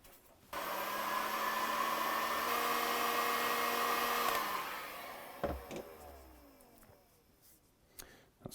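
A heat gun blows a steady, loud whoosh for about four seconds while melting the frayed end of a mower recoil cord, then cuts off, followed by faint handling clicks and knocks.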